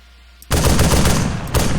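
A machine gun fires a loud, continuous close-range burst in Arma 3 with the IFA3 WarMod, starting abruptly after a brief quiet moment and hammering on without a break.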